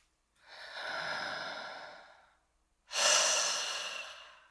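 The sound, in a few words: chest breathing exercise, breathing high into the chest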